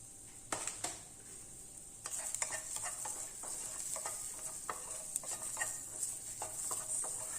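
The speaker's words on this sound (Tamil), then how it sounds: "பூண்டுமே ஓரளவு வந்து வதங்கிடுச்சு நான் இப்போ இதை ஆஃப் பண்ணிவிட்டு ஆற விட்டுறேன்" Garlic sautés in a pan with dry-roasted ingredients, a soft sizzle under repeated scraping and stirring strokes at an uneven rhythm, close by and fairly quiet.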